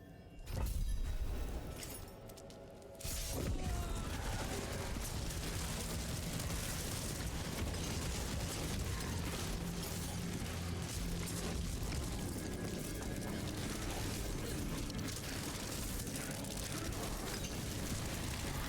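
Heavy explosions blast enemies in a video game, a loud booming burst at the start followed after a brief lull by a dense, continuous wall of blasts and crashes, with no talking.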